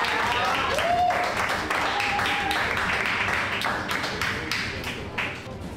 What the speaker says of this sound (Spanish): Un aplauso, gente, un aplauso a este hombre.